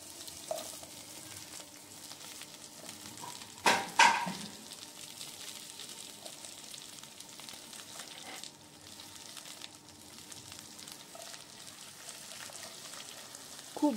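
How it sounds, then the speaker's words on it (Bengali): Diced potato and taro pieces fry in hot oil, giving a steady, moderate sizzle throughout, with a brief louder clatter of stirring near the middle and no voices. "একসাথে আলু কচুরমুখী দুটোই ভেজে নেব।"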